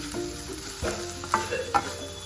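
Potato filling for crispy bread rolls being sautéed in a pan, a gentle steady sizzle under several close spatula scrapes and clinks, two sharper knocks near the end, with no one speaking.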